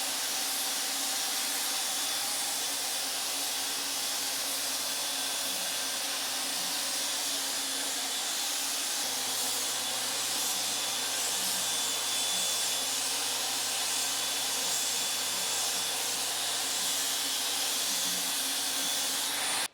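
Apollo HVLP Precision-6 pro spray gun laying down a horizon pearl mid coat, a steady airy hiss of atomized paint that holds loud and continuous with no breaks, close by.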